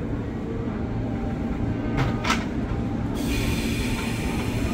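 A KRL Commuter Line train departs track 7 at Manggarai Station: steady low rolling rumble with a brief metallic squeal and a hiss partway through, no voices.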